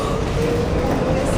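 A New York City subway car rides along, producing a steady, loud rumble and rattle throughout, with faint voices mixed into the noise.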